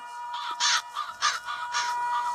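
Crows caw in a horror video game set in a mental hospital, several harsh calls in quick succession, close and clear with nothing else beneath them.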